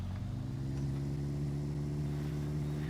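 A van engine in The Long Drive driving game, a steady low droning hum holding an even pitch throughout, close and continuous with no speech.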